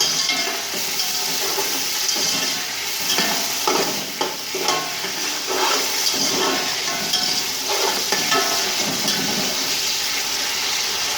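Spices and onions sizzle in hot oil in a pan for Punjabi chicken pulao, a steady close frying hiss with stirring scrapes and small crackles throughout, no voice.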